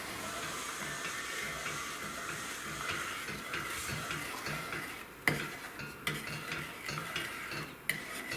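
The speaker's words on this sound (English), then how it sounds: "you just go around it until it gets hot, and do that a little bit, and give it a stir" A spoon stirs a candy mixture as it heats in a pot, with a soft, rhythmic scraping under a faint hiss, then a few louder clanks of the utensil against the pot near the end.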